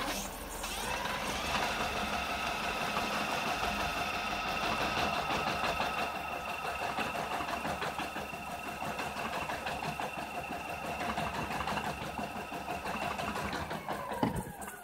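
A Motobécane bike's electric motor running at speed 2 on a mini controller, a steady whining hum with stable tonal pitch holding for about fifteen seconds, then dropping at the end.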